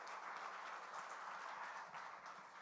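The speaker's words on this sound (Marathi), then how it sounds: "स्नेहल वहिनींसाठी सुद्धा आपण जोरदार टाळ्या वाजवूयात." Applause from an audience at a Marathi book launch for a poet and editor's collection, a steady dense wash of clapping sustained evenly for a few seconds without voices.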